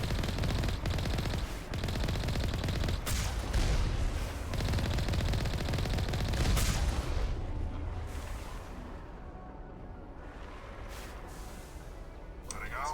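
Gun turrets fire in the Mass Effect video game, sending dense rapid bursts of automatic gunfire that later thin to scattered, quieter shots, with a voice talking over part of it.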